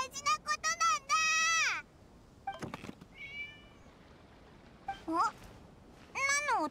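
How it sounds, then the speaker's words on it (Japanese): A cat meows in the video game Genshin Impact: several close, clear meows with falling pitch come in short bursts and a drawn-out cry, separated by quiet gaps. A voice briefly interjects. "猫か。"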